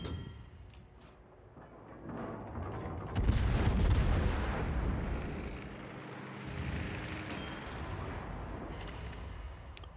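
Naval gun volleys firing armor-piercing shells from the cruiser Saint Louis in World of Warships, a heavy booming salvo that erupts after a quieter stretch and rolls on in a dense, rumbling roar.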